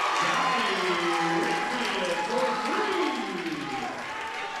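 A high school basketball student cheering section roars as a steady, fairly distant crowd din, with a commentator talking over it throughout.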